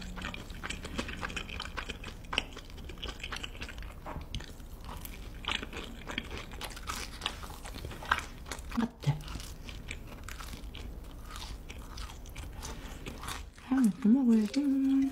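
Raw seafood being bitten and chewed up close, with wet crunches and squelchy mouth sounds repeating steadily, with some speech mixed in.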